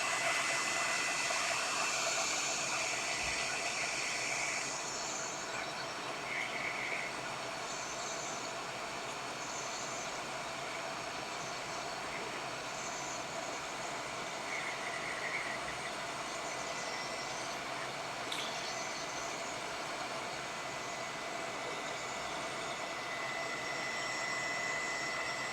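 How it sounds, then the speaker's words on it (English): Steady broadband blowing hiss of a hot air gun heating heat shrink tubing on a small electronics kit project, continuous and fairly quiet throughout with slight tonal variations, no speech. "Just going to turn up the temperature on this hot air gun."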